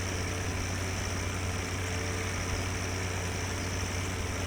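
A tractor engine idles on a farm with a steady, even low hum and no change in pitch or rhythm throughout, close and unaccompanied by talk.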